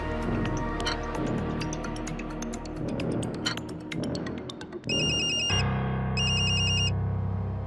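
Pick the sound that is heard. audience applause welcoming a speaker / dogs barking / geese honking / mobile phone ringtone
mobile phone ringtone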